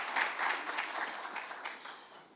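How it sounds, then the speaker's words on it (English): A crowd applauding, steady dense clapping at moderate volume that gradually thins out toward the end. "Let's give that a round of applause."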